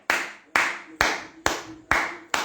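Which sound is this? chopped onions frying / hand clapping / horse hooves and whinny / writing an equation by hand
hand clapping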